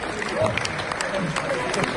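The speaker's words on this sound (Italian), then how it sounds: "ancora un grande applauso" Applause from an audience at a live show after a demonstration with a stick, a Sicilian knife and a dagger, a dense steady clapping wash heard over a voice speaking through it.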